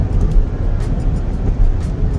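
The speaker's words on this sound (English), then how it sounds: "Is that a plow or that might be? Oh, that's what's blowing the snow." A snowplow truck blowing snow in 19-degree weather passes close by, giving a loud, steady engine rumble under a broad, continuous whoosh of thrown snow with no voices.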